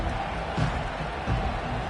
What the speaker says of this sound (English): The roar of the crowd